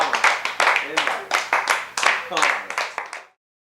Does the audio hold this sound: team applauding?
yes